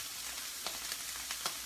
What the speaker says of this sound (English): I can hear that that's crisping up on there